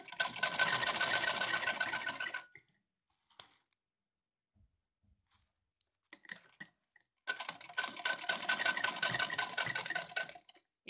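A sewing machine stitches lace onto fabric for a deity's outfit, running in two long steady bursts of rapid, even stitching with a quiet pause between.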